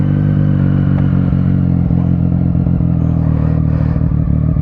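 A motorcycle engine drones steadily and loudly throughout while riding, with a low harmonic hum, faint mechanical clatter and wind buffeting.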